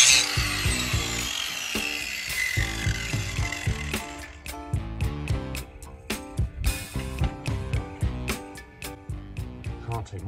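Material is cut away from a spanner, improvised for changing auxiliary belts on a Range Rover L322 TD6. A harsh grinding burst fades into a run of rhythmic metallic strokes and ringing clicks, close and fairly loud.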